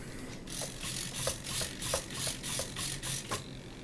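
A small servo on a Guillow's P-40 RC conversion model plane buzzes in a string of short, quiet whirring pulses as it moves the elevator back and forth, with no talking.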